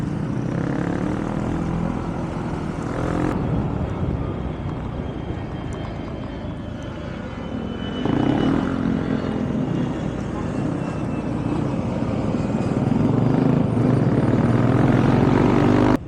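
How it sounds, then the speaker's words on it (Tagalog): A propeller airplane drones overhead during a motorcycle charity ride in Quezon City, a loud broad rumble that swells over the steady road and engine noise. "Napakasaya naman pag nakakita tayo ng aeroplano."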